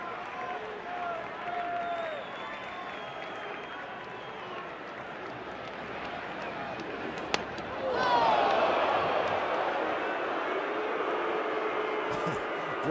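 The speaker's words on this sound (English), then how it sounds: "Draws a reaction from the crowd here at Wrigley." A baseball crowd at Wrigley Field murmurs steadily, then swells into a louder cheer partway through, while commentators talk over the stadium noise.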